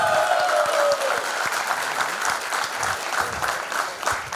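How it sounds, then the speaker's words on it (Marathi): Loud, sustained audience applause at a 1999-batch school reunion honouring the former headmistress, steady dense clapping throughout with a brief high tone near the start. "एकदा जोरदार टाळ्या त्यांच्याकरता"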